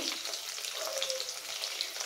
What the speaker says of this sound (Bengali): পটলগুলো আমি অল্প অল্প করে দুবারে ভেজে নেব